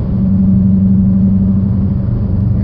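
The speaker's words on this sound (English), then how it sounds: "I bought a muscle car because I want to hear the sound of the car." A 2014 Dodge Challenger R/T V8 with a six-speed and straight pipes gives a loud, steady, deep droning rumble from inside the car, a low throaty engine note held without clear revving peaks.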